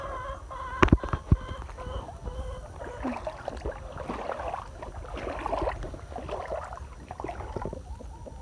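Chickens clucking and murmuring nearby in a flooded yard after heavy rain, amid a wet, splashy background, with a couple of sharp knocks early on.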